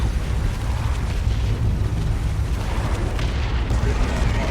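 Orbital bombardment in Dawn of War 2 erupts as a dense, continuous rumble of heavy explosions and booms, loud and layered through the whole stretch.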